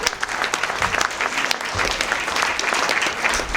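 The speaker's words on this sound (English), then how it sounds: "Give them all a big round of applause" An audience at a truck centre event breaks into a big round of applause, steady dense clapping filling the space at close range, with a few voices faintly underneath.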